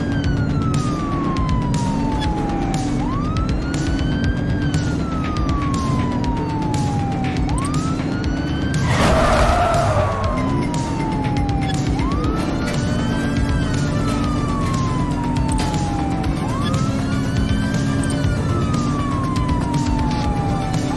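Police car sirens wail in a pursuit in The Precinct, a steady, loud, repeating rise-and-fall siren over a constant engine drone, with a brief burst of crashing noise near the middle.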